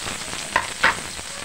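Onion sizzling in a hot pan for chicken pancit bihon guisado: a steady frying hiss with two brief louder crackles, close and alone, with no talk.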